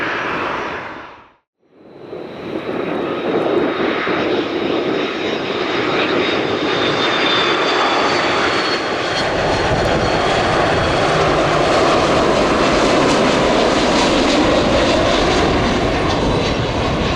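An airliner arriving at Chicago O'Hare airport under wildfire smoke roars in loud and close, its engine whine and broadband rush building steadily and holding for many seconds after a brief quiet gap at the start.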